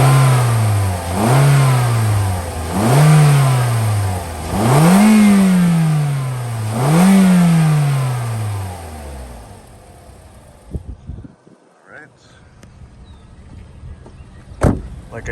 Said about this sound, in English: Let me rev it up a little bit here.